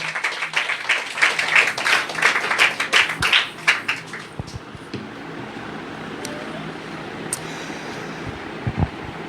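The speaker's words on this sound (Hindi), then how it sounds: "आए उस यीशु के लिए ज़ोरदार तालियां बजाएं।" Church congregation clapping loudly for Jesus: a burst of dense, vigorous clapping for about four seconds, then it drops away into a low, steady room rumble with a few stray claps.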